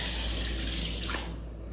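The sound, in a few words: water added to tamarind and salt for soaking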